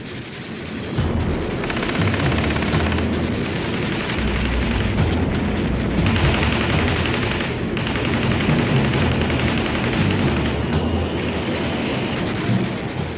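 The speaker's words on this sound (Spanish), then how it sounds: "Los cazas alemanes atacaban a los bombarderos de cerca con ametralladoras de 22 milímetros." Aircraft machine gun fire as German fighters attack B-17 bombers in World War II, a dense, continuous roar of rapid gunfire and engine noise that stays loud and steady throughout.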